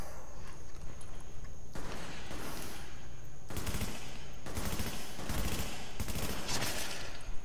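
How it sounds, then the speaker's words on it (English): Rapid gunfire bursts in a first-person shooter game, aimed at a fire extinguisher and a propane tank, crackling in dense volleys that come and go in several loud clusters with no talking. "So I shot that fire extinguisher and shot a propane tank"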